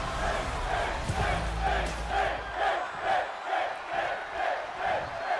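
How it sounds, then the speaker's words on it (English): Rhythmic crowd chanting fills a virtual wrestling arena in WWE 2K22, a steady pulsing chant repeating about every half second under general crowd roar, loud and continuous. "Crowd chanting for Finn Balor on this one."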